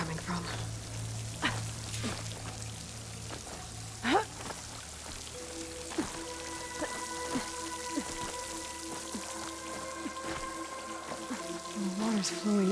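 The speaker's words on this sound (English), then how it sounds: "The water's flowing into the wall." Water runs into a rock wall near a waterfall in Horizon Forbidden West, heard as a soft, continuous splashing and trickling wash, with a low drone and scattered tonal game sounds over it.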